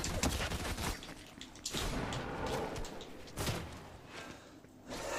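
Rapid bursts of gunfire in the Fortnite OG video game, loud bursts at the start and again around the middle and end, with rattling impacts and thuds between volleys.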